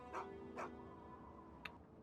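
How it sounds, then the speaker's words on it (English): A friendly stray dog in the Fallout video game gives two short barks close by, followed by a brief sharp yip, set against a low, steady hum of ambient game background. "I think you're the first dog I've met that didn't try to eat me."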